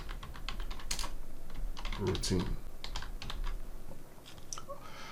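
Rapid typing on a computer keyboard while building an Excel macro, with quick clustered key clacks close by and a voice briefly talking over them.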